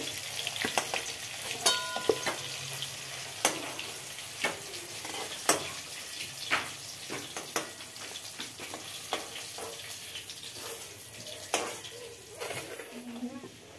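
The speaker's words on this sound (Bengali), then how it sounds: "এবার আলু ভেজে নিচ্ছি" Cauliflower and potatoes frying in a pan, with a soft continuous sizzle broken by repeated sharp clinks and scrapes of stirring at irregular intervals, close by and fairly quiet.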